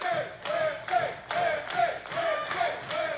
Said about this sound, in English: This crowd alive for Kripke.